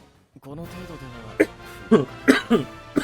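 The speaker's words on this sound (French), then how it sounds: "Excusez-moi, je tousse pas mal." A voice speaks, then several short, sharp coughs break out in a loose series, close to the listener.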